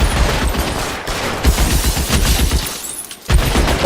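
Gunfire in the L.A. Noire video game, a dense fusillade of overlapping shots and impacts rolling continuously through the clip, loud and busy with a brief lull before it resumes.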